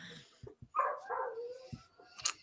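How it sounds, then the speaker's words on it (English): A male dog, excited by nearby females in heat, gives short yips and whining barks close by, a few bursts over a couple of seconds with no talk over them. "Can you hear my dog?"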